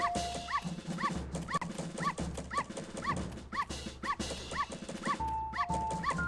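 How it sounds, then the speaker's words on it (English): A dog in The Legend of Zelda: Majora's Mask barks repeatedly in a steady rhythm, about one bark every half second, loud and close over looping game music, with no talking. "We will let this dog follow around."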